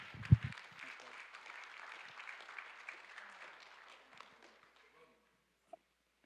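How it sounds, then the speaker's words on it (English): Applause for a speaker at a grandmother's memorial service, a room of hands clapping steadily after a sharp thump, then thinning out and fading to near silence with one late clap. "Everybody give him a round of applause."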